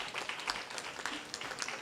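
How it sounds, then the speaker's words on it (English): A concert audience at a Bhavani Shankar Mandir cultural program claps for a performer, a short, fairly faint burst of scattered hand clapping heard from a distance in a reverberant hall. "Please give her another round of applause."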